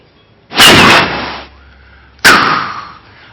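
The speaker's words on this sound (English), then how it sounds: "in England, a fireworks display is like this" Fireworks at an English display go off as two loud, sharp bangs about two seconds apart. Each burst rings out and fades slowly, with no voices.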